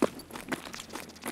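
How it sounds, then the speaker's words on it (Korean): A few soft footsteps in Escape from Tarkov on the Shoreline map, quiet crunching steps spaced irregularly at moderate distance, with no voices over them. "그럼 아까 그 발소리가 스케브인가?"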